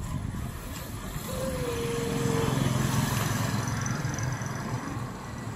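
A motorcycle engine runs steadily, its drone swelling in the middle before settling, heard fairly close with a faint whine briefly riding on top.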